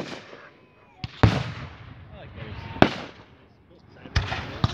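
Fireworks at a firework show go off in several sharp, loud booms and crackling bursts, spaced a second or two apart, with people talking between the blasts.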